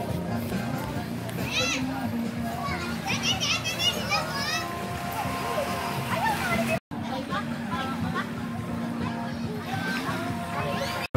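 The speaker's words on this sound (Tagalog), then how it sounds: "habang yung aming mga bata doon sa dagat naliligo" Children play and splash in the sea off a sandy island beach on a summer outing, their lively voices and shouts filling a steady, close, busy scene with a short break partway through.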